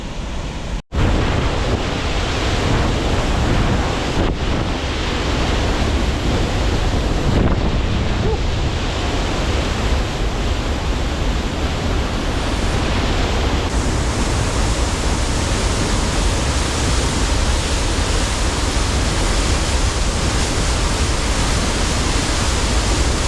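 A rushing waterfall cascade pours as a loud, steady broadband roar close to the microphone, with wind buffeting and a brief knock near the start, and no talk.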